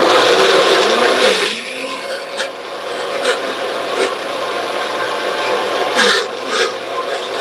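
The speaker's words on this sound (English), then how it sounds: "it helps to plug in the blender." Countertop blender whirring loudly and close while blending ingredients for herb and garlic bread, with the motor straining and dipping against resistance, steady under the running noise without talk.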